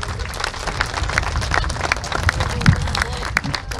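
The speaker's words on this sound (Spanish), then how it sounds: "Un fuerte aplauso," An outdoor crowd at a rural irrigation-system handover event with President Evo Morales in Entre Ríos, Tarija, claps in sharp, scattered bursts, close and fairly loud, mixed with murmuring voices and background bustle.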